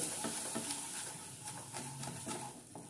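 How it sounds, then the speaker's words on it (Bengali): Spice mix with soy sauce, salt and sugar, meant as cauliflower stuffing, fries gently in a pan and is stirred, giving a steady low sizzle broken by soft scraping strokes. "সবগুলো মিশিয়ে নিয়ে একটু হালকা করে ভেজে নেব।"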